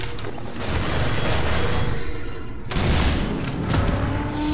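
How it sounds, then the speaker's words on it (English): Rocket explosions in the video game Half-Life 2: Episode One, deep booming blasts and rumbling debris over a dense, noisy game soundscape, loud and sustained with a short lull midway. "Okay, finally some damn rockets."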